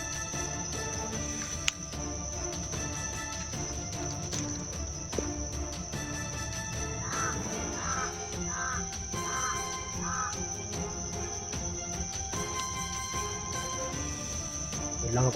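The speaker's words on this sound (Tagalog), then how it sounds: "Malakas ang tingog sa uwak." A crow caws loudly several times in a quick series, with crickets trilling steadily underneath throughout the long outdoor stretch.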